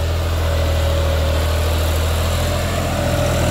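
A New Holland 5620 4x4 70 hp tractor runs steadily with an 11-tine tiller working in a field, giving a loud, constant low engine drone with a faint whine throughout and no voices.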